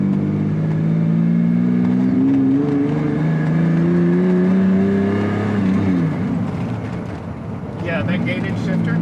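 Lamborghini Diablo V12 engine revving and rising in pitch through quick upshifts from the gated shifter, heard loudly from inside the car, then dropping off as the revs fall, with a brief clatter near the end.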